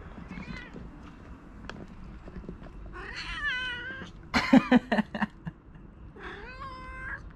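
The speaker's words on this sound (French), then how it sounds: "alerte au chat" A cat meows several times, drawn-out wavering cries with a few sharp bursts in between, fairly close, over a quiet room.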